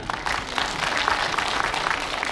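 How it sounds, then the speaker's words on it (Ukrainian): A festival audience claps steadily, a dense even wash of applause from a large crowd that carries on throughout without pause. "Ваші бурхливі оплески засновнику нашого фестивалю"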